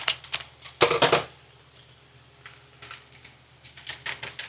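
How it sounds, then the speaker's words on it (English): Scissors snip open seasoning packets in a home kitchen while making cheesy Mexican rice with smoked sausage, a few quick close crisp cuts and paper crinkles, then quieter rustling. "gonna need my scissors for this, or Carolyn's scissors."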